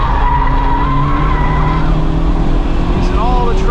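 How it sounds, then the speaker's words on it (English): Honda Civic Type R FL5 on Michelin Pilot Sport Cup 2 tyres braking hard on a race track, tyres squealing loudly over engine noise with falling revs, close and continuous. "Hard on the brakes."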